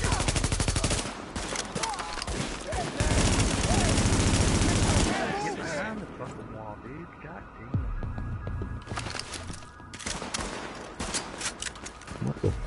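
Dense, loud automatic gunfire from the video game The Division, sustained bursts of rapid shots that pause briefly and then resume, with a steady hum underneath.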